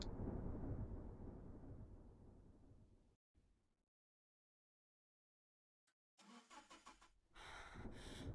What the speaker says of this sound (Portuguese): Olha, barulho de um carro.